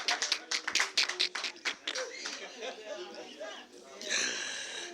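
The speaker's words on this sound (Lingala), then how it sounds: "Applaudissez s'il vous plaît." Applause from an audience, a quick burst of sharp claps that thins out as chatter and a voice take over, ending in a brighter tonal sound.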